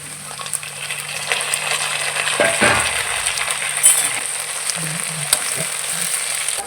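Garlic and onion sautéing in hot oil for a sardine fish curry, a steady loud sizzle with scraping and clatter of a stirring spoon, and tomatoes tipped into the pan partway through, close up with no talking.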